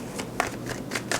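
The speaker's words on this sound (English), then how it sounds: "2 more shuffles." A deck of tarot cards is riffled and shuffled in a few quick bursts, crisp papery flutters close to the microphone with no talking.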